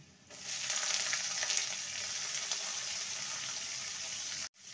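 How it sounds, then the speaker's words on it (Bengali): Chopped onion sizzles steadily in a hot pan with oil for a bean mash dish, a continuous bright frying hiss with faint stirring, close and alone, cutting off abruptly near the end. "পেঁয়াজটাকে হালকা লাল করে ভেজে নেব।"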